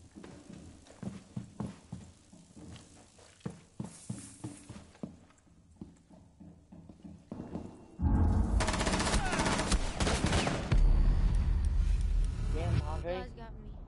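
Rapid bursts of gunfire in the tactical shooter Rainbow Six, sharp repeated cracks at first, then a dense, loud stretch of sustained automatic fire, with people talking throughout.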